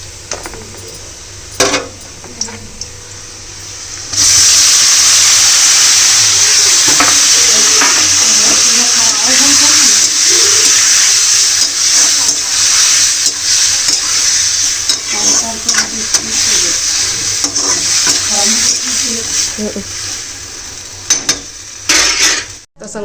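Puris frying in hot oil, a loud, continuous sizzle that runs close and steady for most of the stretch, with occasional clinks of a metal utensil against the pan and brief bumps of handling.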